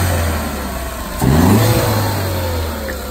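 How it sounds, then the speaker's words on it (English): A 1990s Ford F-150 engine idles steadily, then blips up into a brief rising rev around the middle before settling back to a loud, close idle, with no talking. "Alright, I'll give it a rev."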